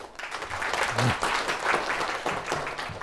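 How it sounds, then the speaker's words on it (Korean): A lecture-hall audience at a Korean public talk on Plato's philosophy gives steady, dense applause that holds evenly for about three seconds with no voices over it. "이태호 선생님 박수 주시겠습니다."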